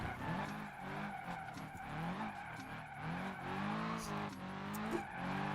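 A racing video game car pulls a handbrake skid: engine drone with sustained tire screech rising and falling across the clip, loud and continuous.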